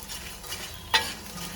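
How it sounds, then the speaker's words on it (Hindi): Gond, an edible gum, fries in a pan with a soft, steady sizzle and a faint scrape of stirring, plus one sharp clink of utensil against metal partway through. "अब गोंद करेंगे हम फ्राई।"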